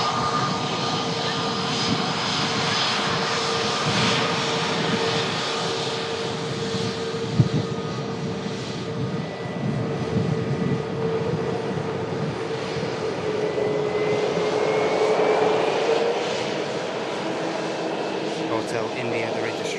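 An EasyJet jet airliner arriving at an airport from Malta, a steady loud engine roar that swells slightly toward the end, heard alongside talking.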